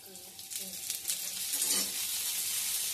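Pesarattu, a moong dal dosa, frying on a hot pan at home, a steady close sizzle with soft crackling that swells slightly, with faint voices in the background.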